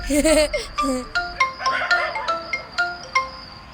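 A melodic electronic ringtone plays in repeating chiming notes, fairly close, with a voice briefly overlapping at the start.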